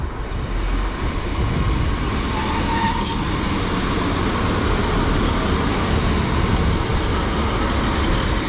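Passenger train 15213 pulling into Mountain Ash station in South Wales, a loud steady rumble of wheels and engine close by, with faint high squeals above it throughout.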